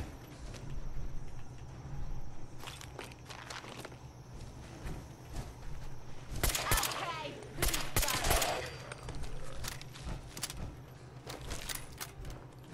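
Turret machine gun fire in Fallout 4's Far Harbor expansion, rapid clattering bursts in several separate volleys over a steady low background hum, moderately loud with brief pauses between.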